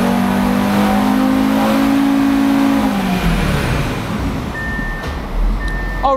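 An Audi RS3 tuned with a JB4 revs hard on a dyno, its loud, sustained engine note holding high before winding down halfway through and settling into a rougher, lower drone.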